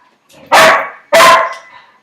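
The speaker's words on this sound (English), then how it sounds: "listen to Dakota bark" A dog gives two loud, close barks about half a second apart and then falls quiet.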